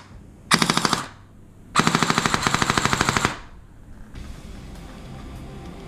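An airsoft plasma pistol conversion firing two rapid full-auto bursts, a short one then a longer one, each a fast even rattle of shots, followed by quieter background noise.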